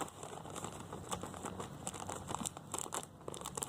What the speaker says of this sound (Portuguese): deixa eu abrir aqui o saquinho. Aqui a torta de mamona.